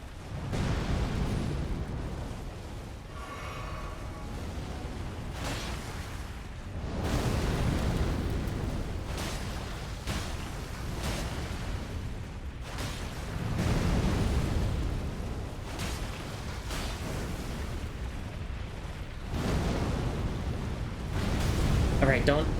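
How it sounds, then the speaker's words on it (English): Explosions in the video game Elden Ring come as repeated heavy rumbling blasts, loud and sustained, over continuous game noise, with a person talking throughout. "don't jump into the explosion"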